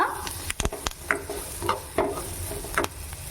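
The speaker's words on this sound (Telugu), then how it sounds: "కాస్తంత పసుపు అలాగే ఎర్రగడ్డలు కరేపాకు వేసి వేయించుకోవాలి బాగా" Onions, turmeric and curry leaves fry in a pan for a Kerala-style aviyal, giving a soft, steady sizzle broken by sharp clicks and scrapes of stirring, close up with no talking.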